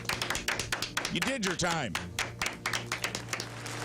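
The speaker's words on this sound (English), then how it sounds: "Give me the applause button for Karen." A button plays recorded applause on a talk radio show: dense, steady clapping that runs the whole time beneath someone speaking.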